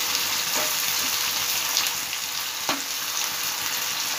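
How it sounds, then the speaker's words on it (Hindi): Roughly chopped tomatoes fry on a high flame in a pan for a paneer butter masala, a loud steady sizzle with a few faint stirring clinks and no talking. "अब हम यहाँ पे टमाटर डाल देंगे, ये हमारे 3 बड़े टमाटर हैं रफली चॉप किए हुए, ये भी इसमें डाल देंगे और हाई फ्लेम पर ही थोड़ा सा पका लेंगे।"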